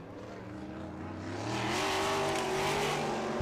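A 410 sprint car runs a qualifying lap at Wilmot during the IRA All-Star Showdown, its engine droning loud and steady before swelling louder as it nears, with no talk over it.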